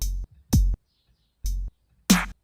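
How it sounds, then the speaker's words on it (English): Kick drum sample triggered in Logic for a hip-hop beat: four punchy, booming hits with sharp attacks, spaced unevenly and heard alone. "Kick sound like this, the lowest sounding drum."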